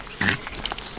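Newborn heritage piglet squealing in one short high burst, followed by faint snuffling grunts nearby.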